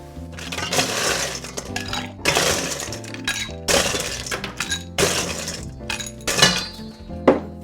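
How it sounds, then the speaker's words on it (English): Ice is added to a cocktail glass in several loud bursts of clattering and clinking cubes, close by and with no talking. "Let's add some ice."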